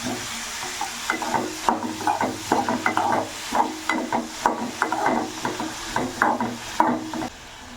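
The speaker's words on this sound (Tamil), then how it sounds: "இப்போ நம்ம வந்து கட்டினு வச்சுருக்க தக்காளி ஒன்றை மட்டும் ஆட் பண்ணி வணக்கி விட்டுருலாம்" Tomatoes sauté with fenugreek seeds in a pan for tomato chutney, a spatula stirring and scraping in a steady rhythm over a soft sizzle.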